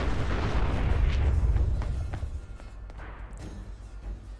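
Grenades go off in the Fallout 4 video game, with a deep rumbling boom that swells and then decays, followed by scattered smaller pops and crackles.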